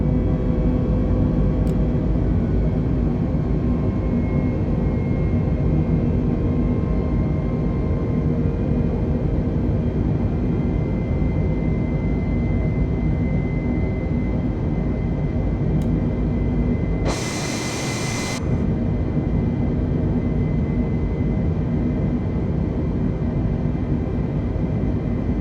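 An Airbus airliner climbs in Microsoft Flight Simulator with a steady, loud engine roar that stays even throughout, broken only by a brief dropout near the end.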